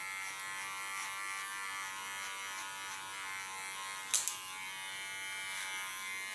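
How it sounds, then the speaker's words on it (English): Electric hair clipper buzzing steadily close by while cutting a woman's hair in a salon-style home cut, a constant high whine with a brief sharp click partway through. "the way I like to guide hair is into the clipper"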